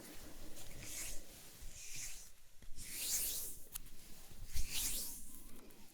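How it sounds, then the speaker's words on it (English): Hands rub together close to the microphone in a quiet ASMR setting, soft dry swishing strokes repeating in uneven bursts, with brief faint taps between them. "I've been really liking this hand sound, like rubbing the hands together."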